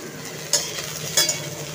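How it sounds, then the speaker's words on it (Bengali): Potato and brinjal pieces frying in mustard oil with black cumin and green chilli, a steady soft sizzle broken by three brief louder stirring scrapes, close and alone with no talk. "চলো এটা একটু ভেজে নিই, আলু ও বেগুনগুলো একটু ভাজা হয়ে যাক"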